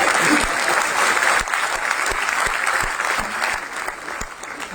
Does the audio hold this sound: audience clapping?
yes